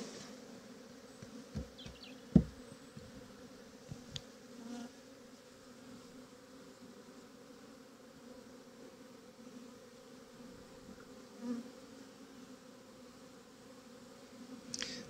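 A steady hum of many honey bees buzzing nearby as a shook swarm is moved into a hive, with a few faint knocks and clicks scattered through it.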